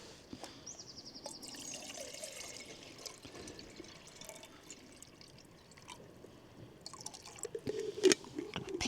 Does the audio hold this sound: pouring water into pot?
yes